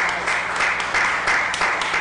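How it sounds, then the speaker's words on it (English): Staff at a committee meeting give the engineering team a short burst of applause, with dense clapping from a small room and a few voices over it. "I think we owe you a round of applause"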